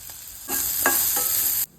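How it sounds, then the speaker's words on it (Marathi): Onions frying in oil in a kadhai with mustard seeds, cumin, asafoetida and turmeric, a brief burst of bright sizzling that starts abruptly and cuts off after about a second. "कांदा सॉफ्ट होईपर्यंत परतायचा"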